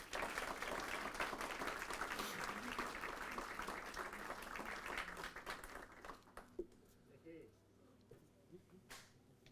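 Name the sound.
applause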